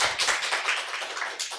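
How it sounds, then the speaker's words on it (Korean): A church congregation claps for God in a brief burst of dense, overlapping handclaps, close and moderately loud, lasting under two seconds. "우리 하나님께 박수 올려드려요"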